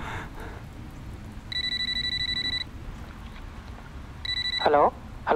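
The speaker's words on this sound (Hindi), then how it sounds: "शेखर, अरे यार तेरे को कब से फोन कर रहा हूँ यार, तेरा सेल फोन" A cell phone rings in two electronic trilling bursts, a longer one and then a short one, over a low background hum in a Hindi short film scene.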